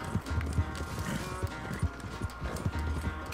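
Galloping horse hooves from the video game Red Dead Redemption 2 pound in a fast, steady rhythm, close and loud, with a brief snort or whinny amid the running.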